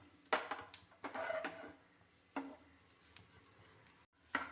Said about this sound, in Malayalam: ചൂടായ എണ്ണയിലേക്ക് ഇഞ്ചി വെളുത്തുള്ളി ഇട്ട് വഴറ്റണം